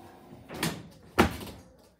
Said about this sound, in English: Sorry, I see you close the door.